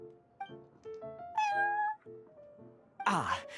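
A cat meows in the video game Genshin Impact, sounding a run of short, clear, tonal calls. One longer, rising meow comes in the middle, over light game music. A burst of noisier sound closes it.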